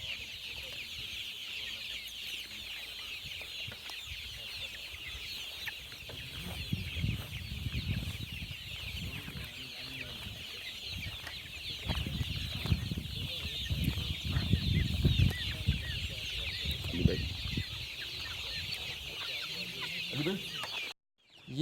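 Flock of about 2,500 desi hens and chicks on an open poultry farm in Pakistan, clucking and cheeping steadily and close by, with a dense chick chorus throughout and louder bursts of hen clucking toward the middle.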